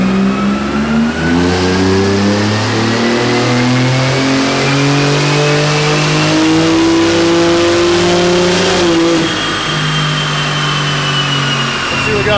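Porsche 911 GT2 RS on a chassis dyno, run all the way up to redline, with a loud, steady engine note climbing continuously for about nine seconds before the throttle lifts and the revs fall away.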